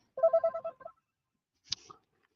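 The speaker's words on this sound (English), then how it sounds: "phone just ringing on me" A phone rings with an electronic ringtone: a quick run of repeated, bright melodic tones lasting under a second, followed after a pause by a single sharp click and a faint rustle, close by and with no talking.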